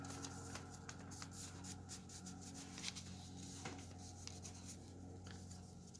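Paper being folded in half to make a classic 1980s lucky ninja throwing star, with soft crinkling, rubbing and creasing close by over a steady low hum and no talk.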